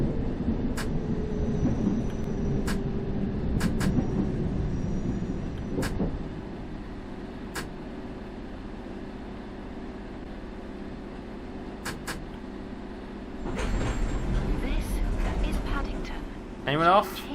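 A London Underground train in a simulator game rumbles into Paddington station, a steady low roar with sharp clicks that fades as it slows, then a swell of door and mechanical noise near the end; someone talks over it.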